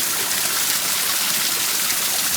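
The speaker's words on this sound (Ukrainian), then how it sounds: "А тут такі буруни." Icy winter river rapids churn and roar nearby, a loud, steady rush of white water with no voices.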